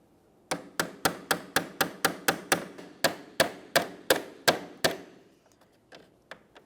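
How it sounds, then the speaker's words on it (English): Someone taps the center piece of a plastic push clip on a 2006-2011 Honda Civic front grille and bumper cover. About sixteen sharp, close knocks come in a quick, even rhythm, then a few fainter taps follow. "To remove these, we'll come from along the bottom and we'll tap on this center piece."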